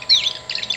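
A Wild Republic Audubon tree swallow plush toy gives a brief, close electronic bird call of chirpy, squawking notes lasting under a second.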